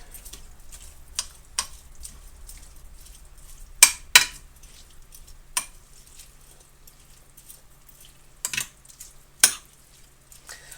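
A spoon stirring rice casserole in a frying pan: scattered scraping clicks and clanks of utensil against metal, a few sharper knocks spread irregularly over a quiet background with no talking.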